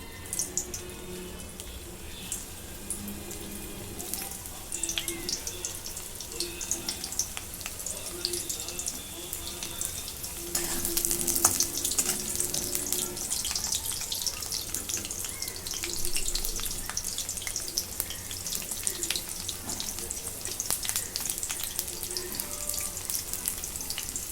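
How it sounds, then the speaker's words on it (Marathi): Oil sizzles and crackles steadily in a wok, getting louder and denser about halfway through as bitter gourd hits the pan, with a constant hiss continuing to the end. "इथे कढईमध्ये मी तेल ओतून घेतलेलं आहे त्याच्यात मी आता हे कारले टाकून घेते"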